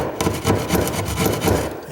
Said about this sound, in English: just happen to have a sheetrock saw here